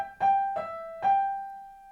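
A piano plays the opening bar of a beginner duet piece, three or four soft, evenly spaced notes ringing out with sustain at the end, heard alone.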